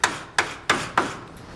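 Chisel driven into drilled holes in wood, four sharp mallet-struck knocks at an even steady pace, close and crisp with short decays, no voices.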